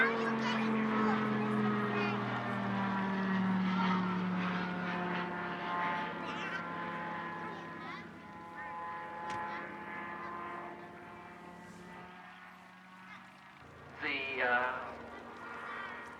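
An Edgley Optica propeller plane drones with a steady engine hum as it flies past, the tone shifting and fading near the end.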